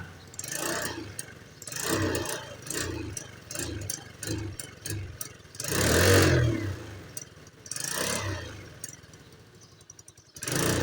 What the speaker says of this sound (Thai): ถ้าหากเราฟังจากเสียงเครื่องยนต์นะครับเพื่อนๆทุกท่าน